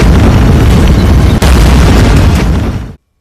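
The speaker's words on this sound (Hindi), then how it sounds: "खर्ग आइलैंड जो है, खर्ग जजीरा, उस पर कई जगहों से जबरदस्त धमाकों की आवाज सुनी जा रही है" Explosions from a US strike on Kharg Island: loud, sustained rumbling blasts and booms filling nearly three seconds, with a brief break around the midpoint before the roar continues and cuts off abruptly.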